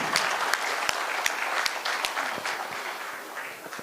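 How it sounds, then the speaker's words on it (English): Steady audience applause at a conference panel session welcoming a speaker, dense clapping from a crowd that holds fairly even, then gradually thins toward the end. "Can we welcome him with a round of applause?"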